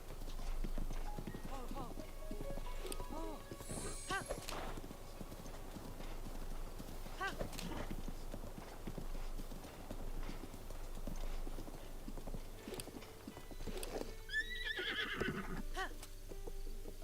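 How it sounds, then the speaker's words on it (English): A horse's hooves clip-clopping in the video game Zelda Breath of the Wild, a steady quiet trot with an occasional whinny, while a person talks over it for the whole stretch. "first let's get Epona back to the stable"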